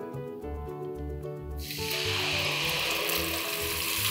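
Crushed spices hitting hot oil with cardamom already crackling, bursting into a loud hissing sizzle partway through and staying intense and close, over light background music with no talking.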